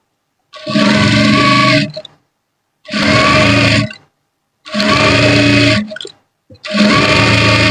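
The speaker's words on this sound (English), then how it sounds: "To hold it with the collar stay, I'm going to run a stitch here." A sewing machine runs a top stitch on a Yoruba fila cap in four separate bursts of steady, close, loud motor whirring, each lasting over a second with short silent pauses between them.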